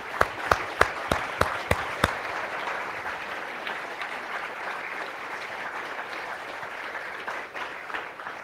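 Conference audience in a large hall clapping for the program committee, opening with several sharp, evenly spaced loud claps near by, then settling into sustained, dense applause from the whole room.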